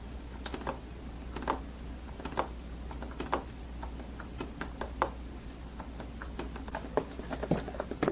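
On a new soprano saxophone from China, the keys are pressed repeatedly and give soft, irregular clicks and taps that stay close and quiet, with a low background hum underneath.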